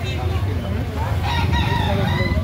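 A bull stag gamecock of the Biboy Enriquez line crows loudly and close in Carbon, Cebu City, one long drawn-out call over a background murmur of voices.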